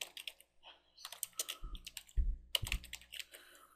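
Quick bursts of clicking on a computer keyboard while setting up a SolidWorks template file, close and fairly quiet, coming in uneven clusters with a few heavier thumps between them.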